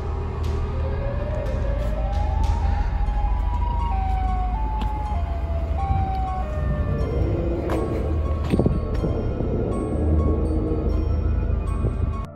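A wailing emergency siren with rising and falling tones sounds outside near a restaurant, loud and continuous over low traffic rumble, with a sharp bang near the end.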